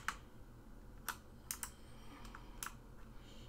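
Keys on a computer keyboard are pressed for copy-and-paste shortcuts: about half a dozen separate, spaced clicks, faint against a low steady hum, with no voices.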